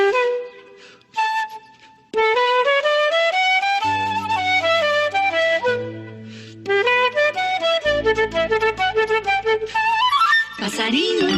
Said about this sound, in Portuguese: Flauta transversal.